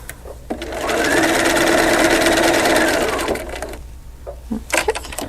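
A sewing machine stitches a double wedding ring quilt piece, running steadily for about two and a half seconds close up, then stopping, followed by faint handling noises.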